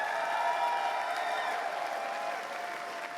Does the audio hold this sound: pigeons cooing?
no